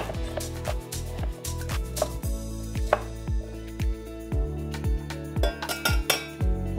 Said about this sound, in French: On va la couper en petits cubes.